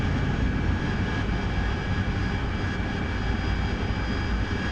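A fixed-wing aircraft engine in the DCS World flight simulator drones loud and steady and close throughout, with no clear change in pitch.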